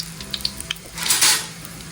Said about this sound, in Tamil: எண்ணெய் காஞ்சோன்னு பட்டை, கிராம்பு, சோம்பு எல்லாத்தையும் போட்டு பொரிய விடணும்.